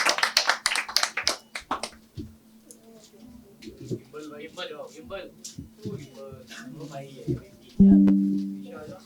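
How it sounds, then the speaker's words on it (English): An audience claps in a burst as four changemakers are invited to the stage, sharp dense claps at the start, then thinning into scattered taps and murmuring voices, with a brief tone near the end. "A round of applause, ladies and gentlemen."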